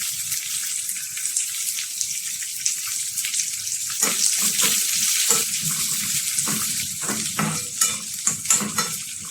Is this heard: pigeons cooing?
no